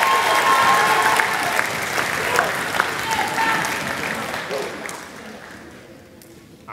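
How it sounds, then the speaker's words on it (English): An audience at a middle school spring music concert gives a round of applause, loud and dense at first, then gradually thinning and fading toward the end with some crowd murmur underneath. "One more round of applause for those two."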